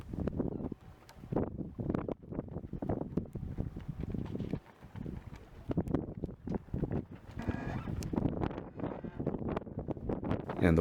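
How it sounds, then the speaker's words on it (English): Gusting wind buffets the microphone while a sailboat is docked, a rough, uneven rumble with knocks and rattles aboard, continuous and fairly close. "the wind continues to increase and then shift more toward, so it's coming more from the west"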